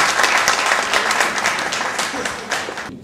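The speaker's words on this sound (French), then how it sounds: "Je vous demande d'applaudir M. Maker-Passy." Applause for an author fills a book-signing event for about three seconds, with dense clapping from the audience before it cuts off abruptly.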